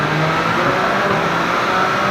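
MV Agusta motorcycle engine on a factory dyno during fast break-in, held at high RPM in the upper gears, a loud, steady, dense roar with no pauses.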